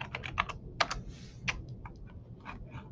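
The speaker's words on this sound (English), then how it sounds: "in the search bar, you can type in your topic" Fingers tap out a search topic on a computer keyboard, with a quick run of close, crisp key clicks at uneven pace.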